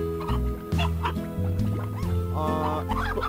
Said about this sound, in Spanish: aquí habían pollos, ¿se acuerdan?